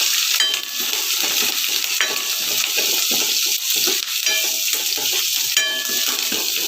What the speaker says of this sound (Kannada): ಕರ್ಬೇವಿನ ಸೊಪ್ಪು ಜೀರಿಗೆ ಮೆಣಸು ಸ್ವಲ್ಪ ಎಣ್ಣೆಯಲ್ಲಿ ಬಾಡಿಸ್ಕೋಬೇಕು